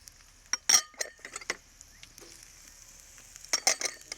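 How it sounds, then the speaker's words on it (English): A utensil stirs sofrito of onions and peppers in a pan, scraping and clinking against the metal in scattered bursts over a faint sizzle, with no voices. "stir these ingredients together"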